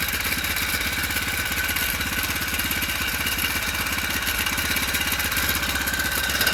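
Small engine idling steadily with a frame-mount spring tensioner pulley fitted, a continuous close mechanical clatter and hum at constant loudness throughout, no voices.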